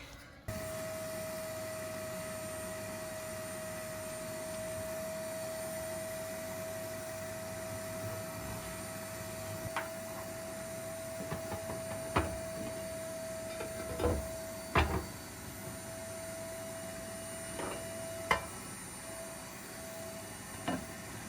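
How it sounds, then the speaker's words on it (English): A steady vacuum cleaner drones throughout, with a sharp whine, while scattered clicks and knocks of debris sucked out of a Jotul F400 wood stove grow more frequent. "I'll vacuum out that stuff at the back"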